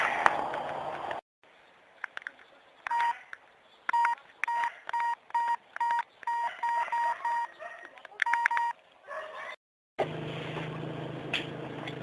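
A telephone being dialed in an old-style radio drama: a run of short, evenly spaced tone beeps between quieter gaps, framed by brief room noise at the start and end.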